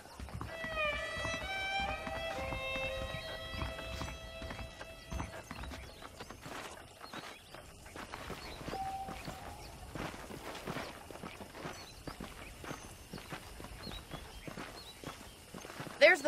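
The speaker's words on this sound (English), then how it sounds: "The horses are saddled up over here." Horse hooves clip-clop at a walking pace in the video game Red Dead Redemption, a steady rhythmic patter with an occasional whinny, set under music and ambient game sound.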